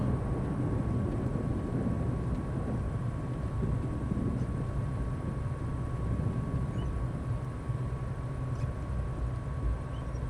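Steady low engine rumble of an aircraft taxiing in a flight simulator game, a constant drone with a faint tonal hum, no talk over it.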